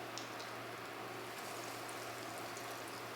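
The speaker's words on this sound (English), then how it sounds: "our oil is heated up and ready to go. So we're just gonna start frying them." Eggplant slices fry in hot oil with a steady, soft crackling sizzle, continuous and fairly faint, with no one talking.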